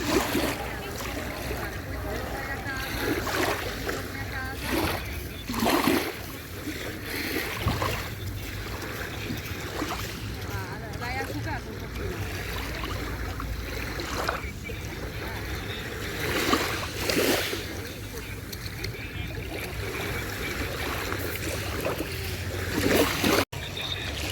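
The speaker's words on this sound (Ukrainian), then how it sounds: "Взагалі сюди варто приходити, навіть просто послухати цей шум води." Steady wash of water with soft swells rising and falling, a broad continuous roar of surf on the city beach in Sarandë, Albania, with faint voices now and then in the background.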